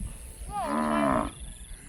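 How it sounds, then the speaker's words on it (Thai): A cow in a rice-field pasture lets out a single clear, fairly close moo lasting under a second, with quiet surroundings before and after. "นี่วัว"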